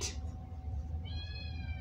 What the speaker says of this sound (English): I'm gonna go shut up the cat.